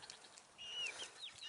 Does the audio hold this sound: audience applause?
no